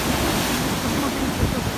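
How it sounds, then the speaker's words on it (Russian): Huge storm waves crash on the sea at Alupka, making a loud, continuous roar of surf mixed with heavy wind buffeting the microphone. "такие волны огромные"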